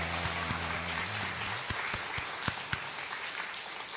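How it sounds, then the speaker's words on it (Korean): A church congregation at a Sunday service gives steady welcoming applause. A low organ or keyboard chord sounds under the start, and a few sharp claps stand out over the even patter. "우리 모두 진심으로 환영하는 박수 하겠습니다"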